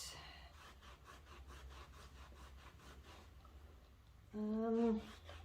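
A cloth rubs back and forth on a permanent marker stain on a wood floor, a close, rhythmic run of even scrubbing strokes, followed by a brief tonal squeak near the end.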